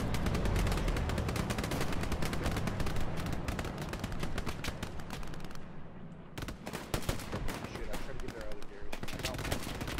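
Machine gun fire in a D-Day video game hammers out in dense, rapid bursts almost continuously, loud and close, with a short lull partway through before the chatter resumes.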